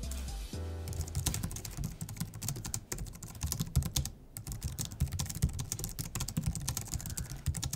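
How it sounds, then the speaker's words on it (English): Fast typing on a Logitech MX Keys keyboard, a dense, continuous stream of close, soft key clicks at high speed, with brief pauses and no talk. "Let's have a listen to the Logitech MX keys to see what they sound like and feel like"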